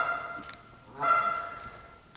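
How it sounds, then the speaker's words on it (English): A goose trapped inside an abandoned mall gives a nasal honk and a second drawn-out honk, echoing in the large empty interior over a steady hum. "There is a goose inside here."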